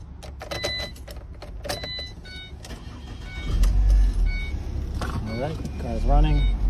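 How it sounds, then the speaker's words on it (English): A 2012 Ford Transit Connect van starts after a freshly programmed key is used: a low cranking rumble builds midway and the engine catches and runs close by, with faint clicks and key sounds before it and brief talk over the idle. "let's start the car."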